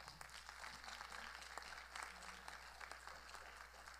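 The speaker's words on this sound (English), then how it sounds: "Can we show our seniors a round of applause and some love" Audience applause for graduating seniors at a school thesis presentation, a steady wash of clapping from a crowd that carries on evenly for the whole stretch at moderate distance, with a low hum beneath.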